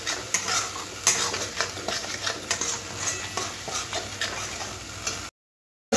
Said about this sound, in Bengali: মেশাতে মেশাতে এখানে দিয়ে দেবো কাজু আর পোস্ত বাটা। খুব ভালো করে মিশিয়ে নিতে হবে।